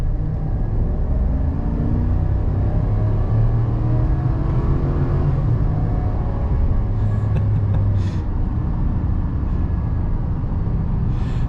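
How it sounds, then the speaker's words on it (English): A 2024 Chevy Silverado 2500 HD with the 6.6L gas engine and 10-speed transmission accelerates at full throttle. A deep, steady engine roar and road rumble build inside the cab, with faint higher whines near the end and no talk. "we'll kind of just punch the throttle and see how fast we can get it up to speed"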